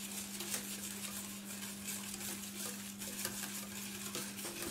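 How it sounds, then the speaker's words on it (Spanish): A whisk stirs milk in a pot, slowly heating toward a boil; a steady scraping, swishing texture runs throughout with faint metallic contact, close and continuous, no voices. "le vamos a dar vueltas con unas varillas hasta que esté al punto de ebullición la leche"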